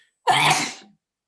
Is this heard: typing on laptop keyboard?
no